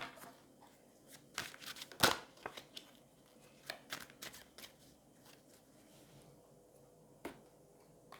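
A deck of tarot cards is shuffled by hand in soft, close flutters and riffles, faint overall with a few sharper snaps and taps scattered through.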